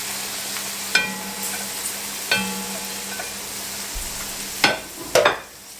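Chopped onion, celery and bell pepper sizzle in hot oil in a gumbo pot, a steady frying hiss broken by occasional metallic clinks and scrapes of a spoon stirring.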